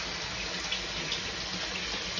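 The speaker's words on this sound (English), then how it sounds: "we've got a big old water change on here" Tap water pours steadily into a tank during an aquarium water change, a constant close splashing rush with no pauses and no voices.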